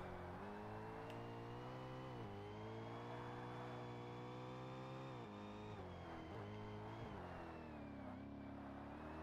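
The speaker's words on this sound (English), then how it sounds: "Oh, that's such a beautiful sounding engine." A race car engine in the Forza Motorsport video game howls steadily at high revs, its pitch sliding down and up between gear changes, with no talk over it.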